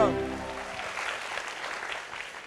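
Audience applause at the close of a French broadcast show, a steady patter of clapping under a spoken voice that fades away, moderately loud and continuing throughout.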